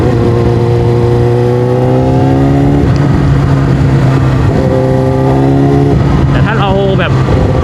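A Yamaha R6 sport motorcycle fitted with a loud aftermarket exhaust holds a steady, droning engine note near the microphone, then revs briefly higher toward the end while someone talks over it.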